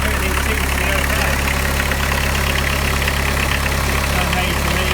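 VW T25 van engine idling, a steady continuous rumble with an even throb, close and loud throughout.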